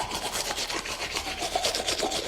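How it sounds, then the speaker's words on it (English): Rapid scrubbing of a toothbrush against teeth, a steady bristly rasping with quick back-and-forth strokes, close and fairly quiet with no voices. "That is brushing your teeth."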